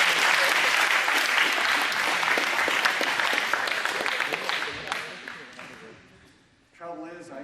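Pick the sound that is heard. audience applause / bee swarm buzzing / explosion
audience applause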